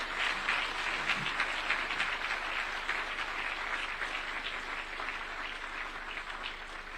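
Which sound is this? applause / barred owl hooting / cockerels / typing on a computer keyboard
applause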